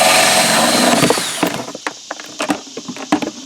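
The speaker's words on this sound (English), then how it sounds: "drill a hole in it." A power drill bores a hole in a raccoon bait station, a loud whirring bite for the first second or so that winds down, followed by scattered clicks and knocks of handling.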